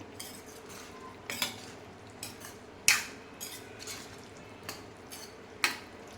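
A spoon scrapes and clinks against a pan while a vegetable curry is stirred, sharp metallic knocks repeating irregularly over a soft background sizzle, with no voices.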